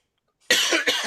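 A single person coughs twice in quick succession, close and loud, after a moment of silence, during an indoor roundtable discussion.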